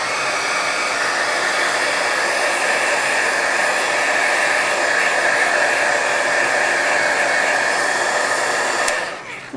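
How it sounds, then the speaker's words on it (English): A heat gun blows continuously on acrylic paint, a steady, close whooshing roar holding for several seconds before cutting off with a click. "I'm just going to dry it with the heat gun for a sec"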